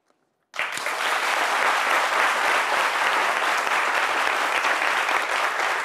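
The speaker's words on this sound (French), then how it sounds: "On applaudit très fort Paulus Agathon" A studio audience on a French midday TV show bursts into loud, sustained applause after a moment of silence, dense clapping holding steady to the end.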